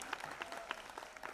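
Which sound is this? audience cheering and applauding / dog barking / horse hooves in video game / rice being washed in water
audience cheering and applauding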